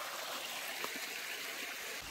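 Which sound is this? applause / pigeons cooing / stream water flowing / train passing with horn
stream water flowing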